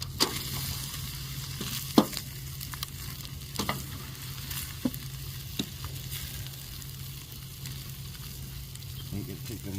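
Buttered burger buns toasting on a buttered pan, a steady close sizzle with occasional clicks and clatters from handling.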